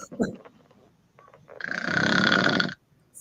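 A woman snores through a long, rough inhale, one of a set of recordings of women snoring, preceded by brief faint sounds.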